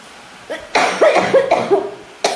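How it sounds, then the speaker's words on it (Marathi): A person coughs several times in quick succession, close and loud, each harsh burst tailing into a strained voiced rasp. "खोकला"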